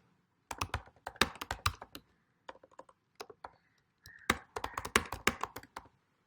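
Close, crisp keystrokes on a computer keyboard at a terminal, typed in two quick bursts separated by a short pause and ending in a final key press.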